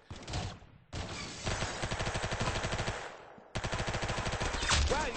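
Rapid automatic gunfire from the Arsenal video game rattles out in dense bursts, with a short gap after the first burst and another break before a final volley, loud and close with no talking.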